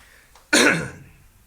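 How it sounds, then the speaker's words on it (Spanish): A single harsh cough bursts out close by, trailing off into a brief throat-clearing rasp, with quiet room tone before and after. "Me van a tener que aguantar hoy día con esta tos."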